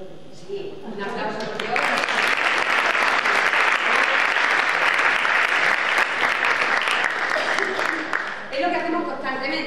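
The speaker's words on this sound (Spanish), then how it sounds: "Un aplauso por Dios." A crowd breaks into loud, sustained applause that swells after a second and holds steady, with voices faintly audible at the start and end.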